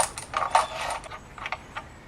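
A ratchet winding out a bolt on a Nissan QR25 engine, a close run of quick mechanical clicks, then a few spaced single clicks as it slows.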